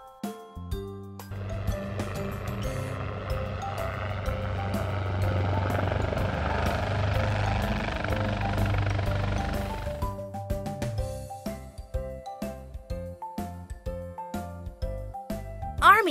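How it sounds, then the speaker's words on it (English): Army transport helicopter with a steady rotor and engine roar for about ten seconds, then it gives way to plinking jingle-like tones. "Army transport helicopter."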